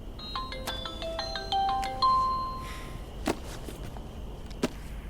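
A phone ringtone plays a quick melodic sequence of bright electronic tones, then stops with a couple of clicks as the call is answered, close and clear with no talking.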